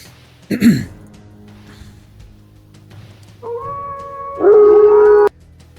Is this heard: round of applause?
no